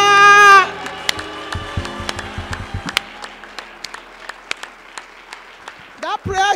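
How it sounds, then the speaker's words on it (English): A church congregation at a revival service claps in scattered, uneven bursts after a loud shouted voice at the start, with another voice rising near the end. "In the name of Jesus, clap your hands and shout hallelujah."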